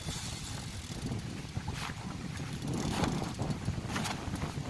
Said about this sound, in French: avec un vent du sud de fou